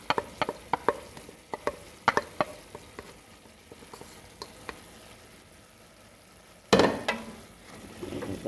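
A spoon stirs a simple one-pot soul food meal: scattered light scrapes and clicks against the pot over a soft steady sizzle, ending in a louder, rougher scrape.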